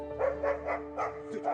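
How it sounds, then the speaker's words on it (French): A dog barks in a quick string of about five or six sharp, fairly close barks while chasing off a bear, with no talk over it. "Regardez ce chien qui chasse un ours trop effronté."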